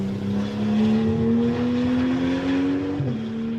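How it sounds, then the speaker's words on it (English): A Porsche GT2 race car engine drones steadily at high revs during qualifying, its pitch rising slowly then dropping sharply near the end as it passes or shifts. "Great noise from the Porsche"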